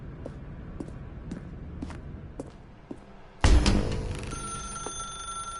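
A telephone rings in a dark room in the video game The Stanley Parable, a sudden loud bright ring with sustained tones after quieter scattered ticks and steps.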